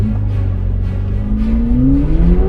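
A McLaren supercar launches from 0 to 100, its engine note climbing steadily in pitch as it accelerates, loud and close from inside the car, with road roar underneath and no talk.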